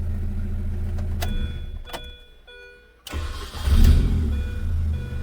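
A 2005 Mini Cooper with an intermittent no-crank fault cranks and its engine catches, then settles into a steady idle; a few clicks come before the start, all close and fairly loud.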